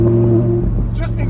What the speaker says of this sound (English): If you go ahead and put the car in sport mode, which is the button down here that I showed you guys, you can hear the exhaust valves actually open up